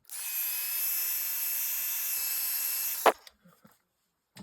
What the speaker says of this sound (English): I'm just going to heat set this clear embossing powder.